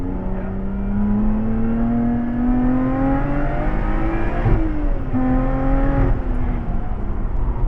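Lotus Exige Sport 410 on the Anglesey track, engine droning steadily loud from inside the car as revs rise and fall through a corner, with the inside wheel spinning.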